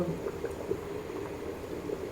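Water bubbles at a low simmer, a soft steady gurgling with small pops, quiet and continuous.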